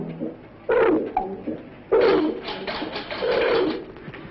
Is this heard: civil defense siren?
no